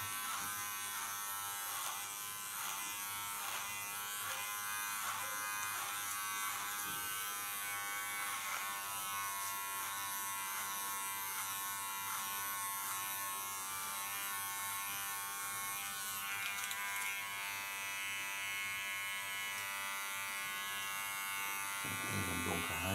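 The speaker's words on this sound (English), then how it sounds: "Guiding the hairs into my clipper." An electric hair clipper buzzes steadily through short hair during a pixie cut, running continuously at close range with small shifts in tone as it passes over the head, no talk over it.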